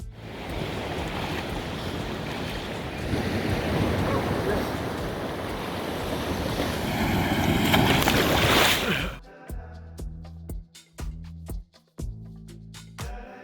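Surf rolling onto Praia da Falesia, a long sandy beach in the Algarve, Portugal, as a steady loud wash with wind buffeting the microphone, then cutting to quieter intermittent splashes of water.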